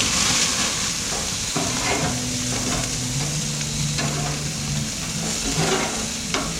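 Frozen burger patties sizzle steadily on an outdoor grill, a continuous loud hiss broken by a few scraping clicks and thuds as the patties are flipped, with no talking.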